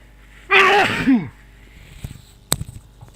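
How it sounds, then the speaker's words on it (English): A man sneezes once, loud and close, a sharp intake followed by the burst, then quiet shuffling and a soft knock. "Excuse me, I did sneeze."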